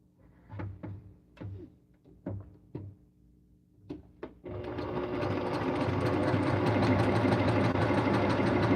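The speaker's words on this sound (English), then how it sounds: "sewing machine is too loud." A few separate mechanical clunks and taps, then a sewing machine starts up and runs steadily on a charm pack quilt with a fast, buzzing stitch rhythm, fairly close.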